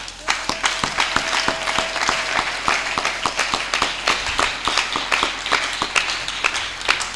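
A church congregation claps and cheers together in sustained applause, a dense crackle of many hands with sharp individual claps standing out, close and steady throughout.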